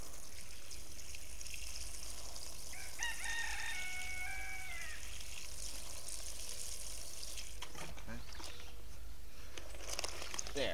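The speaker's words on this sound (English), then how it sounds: "We have a chicken friend coming to visit here this morning." A rooster crows once partway through, followed by a few clucks, over a steady background of trickling water outdoors in the morning.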